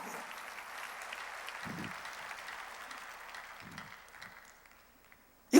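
Applause from a church congregation during a worship service, a soft, dense patter that holds for about four seconds and then dies away into silence.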